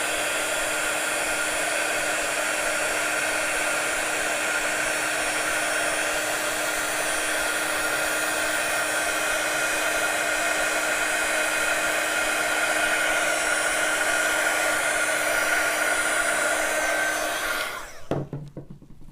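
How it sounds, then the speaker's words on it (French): A heat gun blows steadily for embossing powder on a scrapbooking tag, a continuous close whirring hiss with a constant tone that runs for most of the time before cutting off near the end. "quand on utilise le hot gun"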